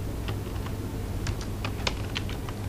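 Light, quick keystrokes tap out a short phrase on a computer keyboard during a web design lab session: a dozen or so soft clicks in an uneven burst, quiet and close, with no talking.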